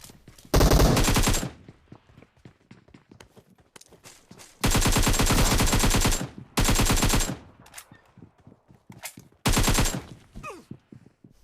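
Gunfire in a video game, with several long bursts of rapid automatic fire separated by short quieter gaps holding faint footsteps and small game sounds.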